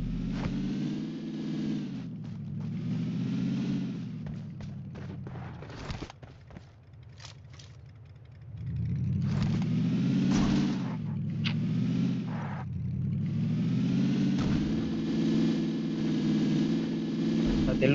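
A vehicle engine in PUBG Mobile, a rising and falling mid-low drone that fades out, pauses amid scattered gunfire-like clicks and thumps, then roars back up and keeps running steadily.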